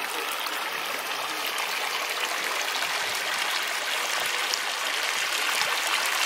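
Spring water trickling steadily into salt evaporation basins at Salinas in Peru's Sacred Valley, a constant close hiss and patter with no pauses.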